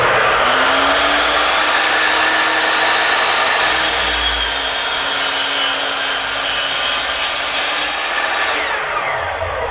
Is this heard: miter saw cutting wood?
yes